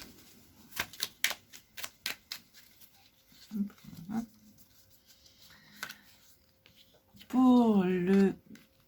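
Oracle cards are shuffled with a run of sharp, rapid flicks, followed by a few softer shuffles as a card is drawn, and a voice speaks briefly at the end.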